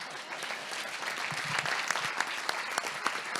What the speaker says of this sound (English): A round of applause for the all-man panel.